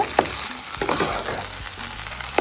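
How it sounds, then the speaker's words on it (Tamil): Mashed potatoes being stirred into a sizzling batata vada filling in a pan, with scraping spoon strokes over a steady frying crackle. "இதை நல்லா கலந்து கொடுங்க."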